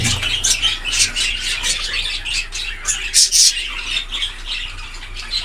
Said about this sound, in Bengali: আমার সবচেয়ে পছন্দের পাখিগুলোর মধ্যে হচ্ছে এটাই এই জোড়াটাই